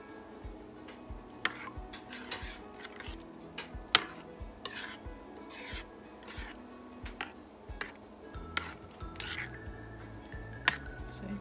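Instant mashed potatoes stirred in a bowl with a utensil, giving soft scraping and irregular clicks and taps against the sides, close and fairly quiet, with faint background sounds.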